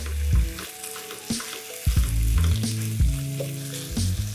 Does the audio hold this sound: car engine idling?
no